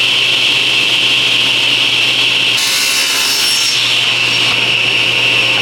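A saw cuts through a wooden sheet being halved for drawer faces, a loud, steady rasping stroke that runs continuously for several seconds with a brief shift in pitch midway, no voices.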